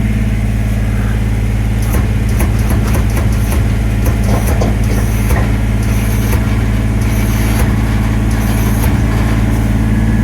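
A loud, steady Kubota BX23S tractor engine drone dominates, with a hydraulic whine and intermittent clanks and creaks as a heavy dump trailer bed lowers.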